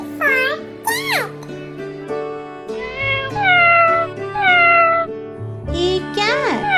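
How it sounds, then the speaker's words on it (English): A cat meowing repeatedly, with loud, drawn-out rising and falling cries close by, over a musical backing in a children's alphabet song. "C for cat."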